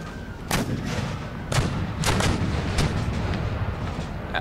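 Cannon fire in the Empire: Total War battle game with the Darthmod mod, several booming shots going off at irregular intervals over a constant rumbling battlefield din, no voices.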